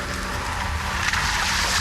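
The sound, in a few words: Nissan X-Trail driving through a puddle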